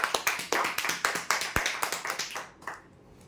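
Dense applause from a crowd greeting a weekly prize draw winner of a steel container set, a rapid run of clapping bursts that fades out near the end.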